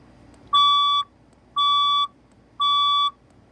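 A fire alarm sounding during a test gives three loud, steady electronic beeps, each about half a second long and evenly spaced, with no voices.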